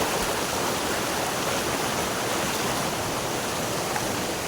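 Steady rushing water of a river flows continuously, a dense broadband hiss like a stream running over rocks, with no voices.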